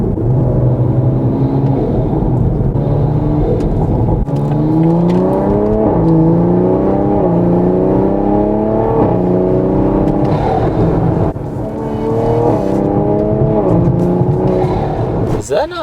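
A Toyota Supra turbo engine fitted with an Armaspeed intake revs hard and loud, pitch repeatedly climbing then dropping as boost is cut, with intake whoosh and turbo noise throughout.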